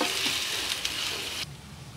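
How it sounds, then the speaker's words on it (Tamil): Paneer shallow-fries in oil with a dense, even sizzle that holds steady, then cuts off abruptly partway through and leaves only a faint background. "பன்னீர் வந்து ஷேலோ ஃப்ரை பண்ண போகிறோம்"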